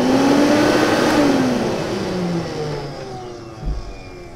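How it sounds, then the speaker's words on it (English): A roughly 20-year-old Lindhaus HF6 vacuum cleaner runs after repair, its motor whine steady and loud up close with a falling pitch as it winds, carrying a rough grinding tone from worn bearings. "Still has some bearing noise"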